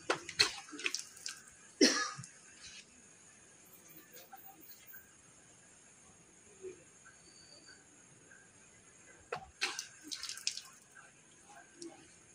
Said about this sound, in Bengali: মুখমণ্ডল আগে ধুয়ে নিই